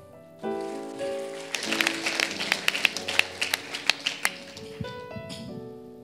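A congregation at a Christmas worship service claps hands together over sustained music, the applause building into a rhythmic series of sharp claps before fading.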